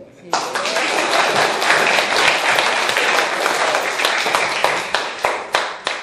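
Audience applause at an official reception for a corporate secretary division with a deputy governor, a steady burst of clapping from a crowd that holds for several seconds and then tapers into a few scattered claps.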